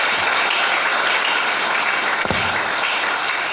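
Congregation applauding and cheering inside a church during a French-language sermon, a dense, steady wash of clapping filling the room throughout, with one brief sharp knock partway through.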